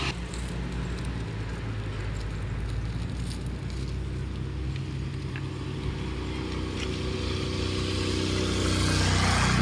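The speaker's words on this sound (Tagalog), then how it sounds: "Pong motor na gamit ni Kuya Frank mga kalingap ay pinahiram lang daw po niya sa kanya." A motorcycle used to fetch cattle feed, its engine a continuous low rumbling drone that builds slightly toward the end, with no talking.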